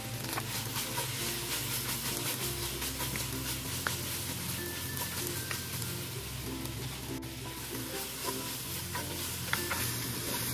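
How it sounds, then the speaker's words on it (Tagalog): Beef frying in a hot pan with mushrooms just added, a steady loud sizzle with scraping stir strokes throughout, no talking, for a creamy beef mushroom dish. "Lagay na rin natin yung mushroom."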